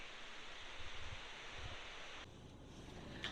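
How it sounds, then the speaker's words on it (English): Steady rushing wind buffeting outdoors at Fort Worden, with low gusty rumbles, fairly faint and with no one speaking. "I think it's just wind. It is windy."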